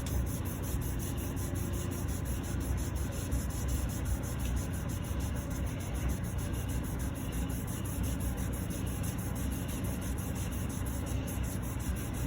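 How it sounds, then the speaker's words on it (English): Steady, continuous rubbing on pitted aluminum car wheels to remove heavy brake dust, an even close scrubbing hiss with no pauses and no talk. "Depending on how bad they're pitted, you may have to rub a little bit harder"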